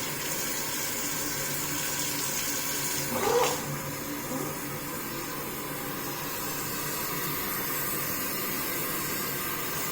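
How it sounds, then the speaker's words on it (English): Tap water runs steadily while a sponge is rinsed under a faucet in a cleaning routine, with a short louder splash and squeeze near the start against constant flowing noise. "So I'm going to rinse out my sponge."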